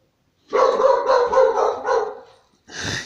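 A dog barks in a rapid, close burst of rough, loud woofs that blur together, followed after a brief pause by one more harsh bark, with no talking.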